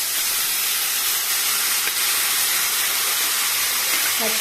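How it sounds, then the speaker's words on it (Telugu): Gongura mutton stirred into a hot tempering of fried dried red chillies and curry leaves, giving a loud, continuous close-up sizzle and hiss with little variation throughout. "ఇలా పోపు వేగిన తర్వాత మనం గోంగూర మటన్ వేసుకొని బాగా కలుపుకోవాలి"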